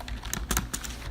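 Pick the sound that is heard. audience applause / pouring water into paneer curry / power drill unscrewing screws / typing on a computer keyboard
typing on a computer keyboard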